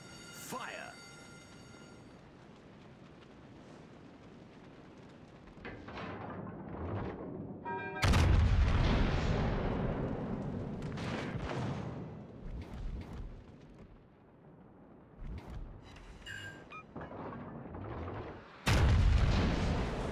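Naval artillery fires in the World of Warships Legends video game, with heavy deep booms and rumbling blasts, two especially loud salvos, amid game effects and someone speaking in places.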